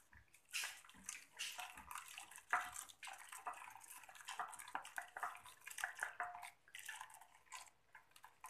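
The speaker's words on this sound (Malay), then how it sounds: "Kita akan tuang air panas." Hot water is poured into sago, a soft continuous splashing and trickling with little drips, faint and close, without speech.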